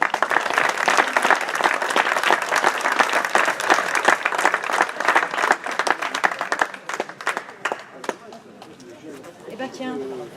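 Crowd applause and clapping at a cycling race award ceremony, a dense, steady burst of many hands that fades toward the end, with voices talking over it and faint bird cooing in the background.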